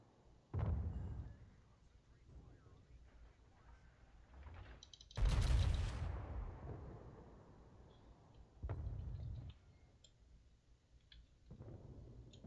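Naval gun salvos in World of Warships, with heavy booming blasts at irregular intervals, one huge roaring broadside that fades slowly, plus softer distant thuds and faint clicks between.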